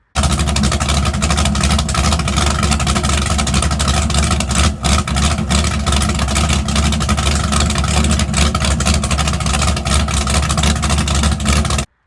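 A 24-foot Baja Outlaw speed boat runs hard on a 468 big-block engine, giving a loud, constant, rough roar that holds steady throughout with no speech.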